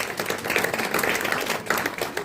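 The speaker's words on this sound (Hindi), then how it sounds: "तो एक बार जोरदार तालियां अनिल सर के लिए।" Dense, steady clapping from a ceremony audience at a library's annual function and awards event, a packed wash of many hands that stays loud and even throughout with no break.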